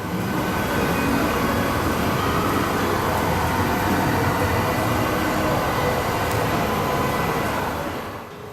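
A London Underground train runs through snow, producing a loud, steady broadband rumble and rushing roar that holds evenly for several seconds, then fades slightly at the end, with no voices.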